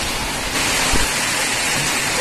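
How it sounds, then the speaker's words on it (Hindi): Heavy rain pours down in a continuous, loud, broadband roar that holds steady throughout, with a faint low thump near the middle and no voices. "ये क्या बारिश है, क्या बारिश हुई"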